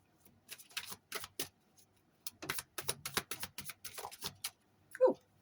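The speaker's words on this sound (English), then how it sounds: "We'll give them a good shuffle too." Tarot cards being shuffled by hand in short crisp bursts of riffling and flicking, fairly close and moderately loud, with quiet pauses between bursts and a brief vocal sound near the end.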